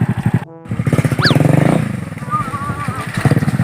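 Motorcycle ridden off-road, its engine running loud and close with a steady pulsing throb that briefly cuts out, then surges back; people talk over the engine noise.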